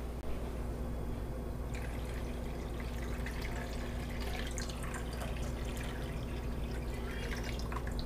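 Water runs into a pot of trout being readied for poaching, a soft continuous trickle and dripping over a low steady background hum, with no talking.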